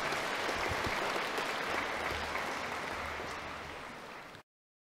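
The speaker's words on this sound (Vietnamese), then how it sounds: "Một lần nữa chúng ta cho các cha một tràng pháo tay thật lớn để cảm ơn các ngài." Applause for the priests at a year-end Mass in a church: a large congregation claps steadily and densely, fairly distant, then fades and cuts off.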